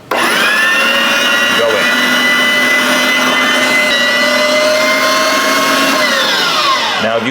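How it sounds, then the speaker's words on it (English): An electric meat grinder fitted with a chili-cut die, running steadily as meat goes through, a loud continuous motor whine that starts and stops abruptly, with a person briefly talking over it. "This way the meat goes through the grinder a little bit thicker."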